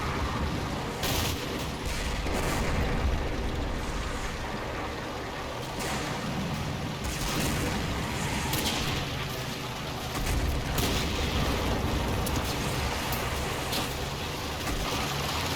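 Battle gunfire from half-tracks and infantry in the World War II video game Combat Mission, a steady rolling fusillade with rumbling booms and engine noise, sustained and fairly loud, with no voices.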